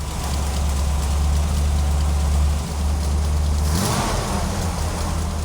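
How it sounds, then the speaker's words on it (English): A COPO Camaro drag-race V8 engine idles with a steady low rumble close by, dipping briefly and shifting slightly partway through as the idle screw is adjusted. "Then you also adjust the idle screw to bring the engine up to a good RPM range"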